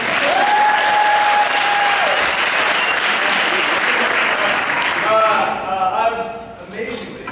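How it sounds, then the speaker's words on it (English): Loud audience applause at a high school's student-directed one-act play night breaks out after a director's introduction, holding steady before tapering off, with cheering and voices audible over the clapping. "Yes, you can start clapping."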